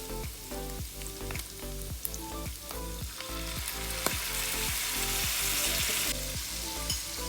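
Chicken fried rice sizzles steadily in a hot pan just after soya sauce goes in, with dense continuous frying crackle and a regular rhythm of stirring scrapes, close and fairly loud throughout, with no one talking.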